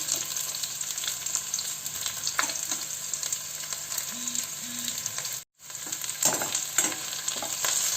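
Chicken pieces for a local chicken curry fry in a pan with a steady, close hiss and sizzle. Small crackles rise through it, and the sound cuts out for a moment partway through.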